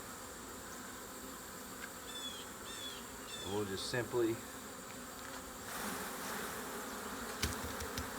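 Honey bees buzz around a hive frame in a low continuous drone, while someone talks briefly and handling knocks and rustles break in partway through.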